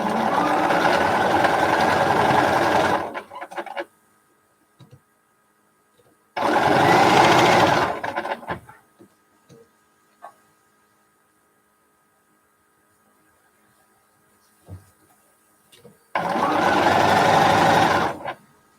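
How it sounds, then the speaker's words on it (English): A sewing machine stitches quilt pieces together in three steady whirring bursts of a few seconds each, separated by quiet pauses with faint handling clicks. "I'm going to sew all 4 of them together"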